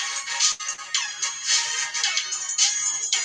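A phone ringtone plays for an incoming call, a repeating bright electronic melody in steady pulses, moderately loud and with no talk over it.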